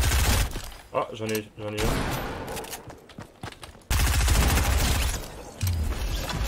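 Gunfire in a Fortnite match: bursts of shots crackle and pop near and far, with a sharp break partway through, under excited voices talking.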